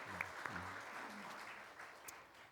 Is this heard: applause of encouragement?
yes